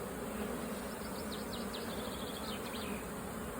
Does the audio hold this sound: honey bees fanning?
yes